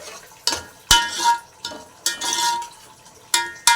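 Tomatoes, onions and green chillies being stirred with ginger-garlic paste in a pan for an Andhra-style country chicken curry, heard as several distinct scraping stirs in short bursts over a faint background sizzle.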